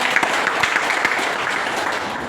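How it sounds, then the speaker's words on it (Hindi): Vigorous clapping fills a seminar hall in Doha, Qatar, a loud, continuous burst of applause from a large audience with no talk over it. "सब के लिए एक जोरदार ताली हो जाए"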